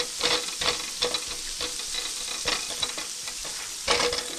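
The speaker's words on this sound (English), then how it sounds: "Saute for 30 to 40 seconds." Ingredients sauté in a pan over medium heat, a close steady sizzle with repeated scraping strokes and light taps of a spoon against the pan.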